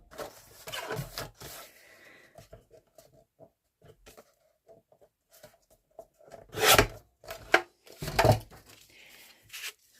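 Paper being trimmed for a botanical trifold junk journal folio: sparse soft rasps and rubs at first, then a few louder scraping bursts toward the end, close by with no talking.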